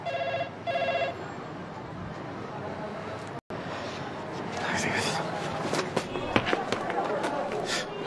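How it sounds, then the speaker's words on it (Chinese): A telephone in a rural household gives two short bursts of electronic ringing at the start, followed by faint rustling and movement in the room. "哟，来电话了。"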